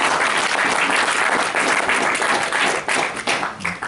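An audience at a Kyäni business training event in Paris bursts into loud, dense applause, sustained clapping from a large crowd that thins out toward the end.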